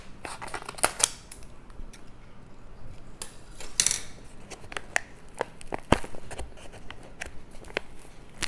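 Scissors snipping egg white over a bowl of water while baking angel food cake, a scattered run of small sharp clicks and snips with a few louder taps of utensils and dishes close by, no talking.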